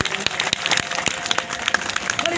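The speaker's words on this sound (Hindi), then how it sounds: "ताली बजाएंगे सभी कोई।" Audience applause at a devotional gathering, a dense wash of many hands clapping close and loud, with sharp individual claps standing out through the steady roar.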